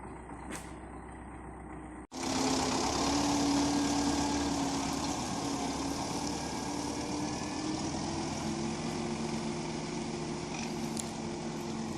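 A tractor pulling a trailer loaded with soybeans starts up after a brief gap and holds a steady, close engine drone through the rest of the clip.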